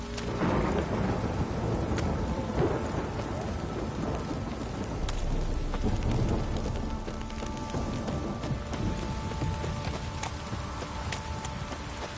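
Steady rain patters and hisses throughout, with low rumbling underneath and occasional sharper knocks, fairly quiet and continuous.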